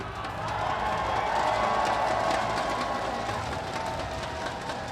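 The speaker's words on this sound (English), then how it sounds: "I wanna hear you guys cheer for your team." Crowd cheering at a live MLBB esports playoff event, the MSC at the Southeast Asia Cup 2022, a loud sustained roar of many voices that swells and holds steady throughout.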